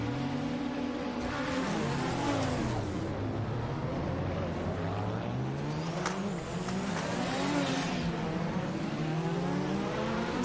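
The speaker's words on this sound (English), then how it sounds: "typical Assetto Corsa rolling start stuff here" Race cars in a rolling start on the Bathurst circuit in Assetto Corsa, engines revving and rising through gears with overlapping pitches from several cars in a dense continuous roar.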